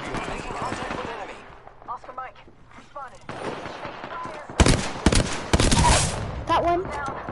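Apex Legends gunfire crackles in dense rapid bursts partway through, loud and close, after a quieter stretch of in-game voice chatter and effects.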